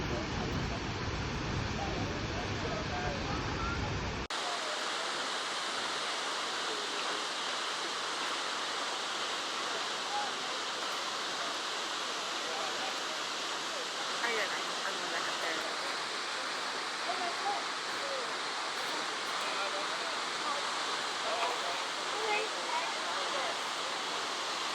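The waterfall at Akaka State Park on Hawaii's Big Island gives a steady, unbroken rush of falling water that fills the whole stretch at an even loudness.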